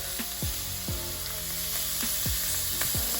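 Seasoned shrimp sizzle in very hot oil in a skillet, a dense close hiss punctuated by several sharp popping spatters at irregular intervals, with no talking.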